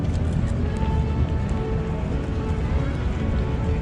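Steady rain falling at night in Venice, a constant close hiss of drops on hard surfaces with no breaks, fairly loud and even throughout.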